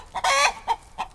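Chickens cluck close by, with one long, loud rooster-like call from a half Chanticleer bird followed by two short clucks, clear against faint background noise.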